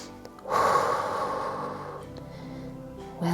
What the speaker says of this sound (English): Breathe in and breathe out.